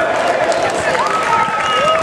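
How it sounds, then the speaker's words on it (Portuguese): Spectators clap for passing rally cars at a classic car rally, a steady wash of applause heard beneath a nearby voice talking with tonal inflections. "Olha, todos a bater palmas a nós"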